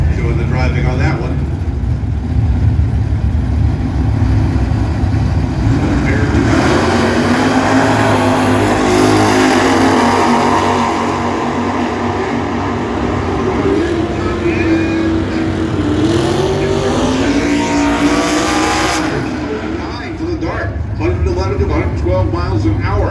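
Drag racing cars at a December car show, a Dodge Dart and a Rambler, with loud engines rising and roaring as they accelerate down the strip, while people talk over the noise.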